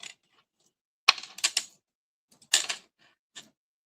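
Scissors cutting iridescent stripe trim in half, a few sparse, crisp snips close by with silences between.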